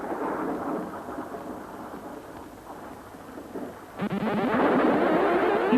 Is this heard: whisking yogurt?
no